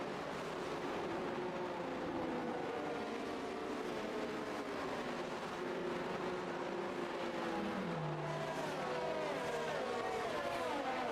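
Racing cars running behind the safety car at the Great Britain round of an online racing game, a continuous blended engine whine with rising and falling pitch, steady and fairly close throughout.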